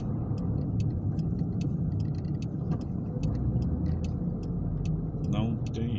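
Road traffic on Brazilian streets and highways around Atibaia, Itatiba and Jundiaí, a steady low rumble of car engines and tyres heard from inside a vehicle, with a repeated clicking like a turn signal and people talking over it.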